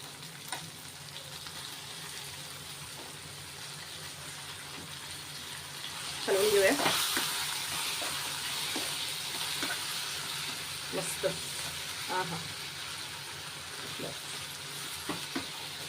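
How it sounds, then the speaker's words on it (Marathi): Spices and dark soy sauce for paneer chilli fry in a pan over full gas with a soft, steady sizzle. A louder hiss comes midway, and occasional stirring clinks follow. "तिखटासाठी मस्त मसाले सगळे भाजून घ्यायचे चांगले गॅस फुल टू फुल ठेवायचा"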